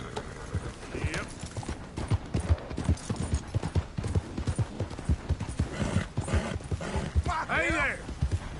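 Horse hooves clip-clop at a brisk trot in a video game, a steady close rhythm of hoof beats with a short whinny near the end while a person talks over it.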